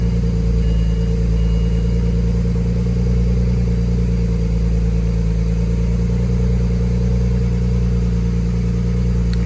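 A BMW 335i engine idling steadily after a fuel pressure regulator housing repair, a close, loud, even low-pitched drone with layered harmonic hum and no talking.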